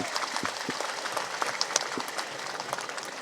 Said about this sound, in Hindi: जोरदार ताली के साथ स्वागत करें सभी।